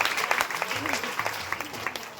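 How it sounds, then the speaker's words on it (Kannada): A crowd at a village gathering applauds loudly with dense, steady clapping throughout, while a voice carries on over it. "ಇವರಿಗೆ ಜೋರಾದ ಚಪ್ಪಾಳೆ ಬರಬೇಕು."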